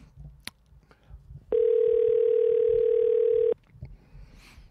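A steady telephone dial tone sounds for about two seconds on a French-language FM radio call-in show, loud and clean, with quiet line noise and faint clicks before and after it.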